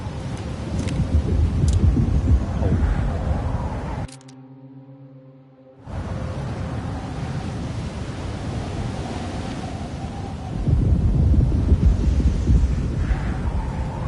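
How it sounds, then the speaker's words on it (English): Wind roars steadily outdoors on a cliff by the Arctic Ocean in the video game Alone in the Dark, a loud broadband rush that drops out briefly midway, then returns and swells stronger near the end. "It's fucking windy."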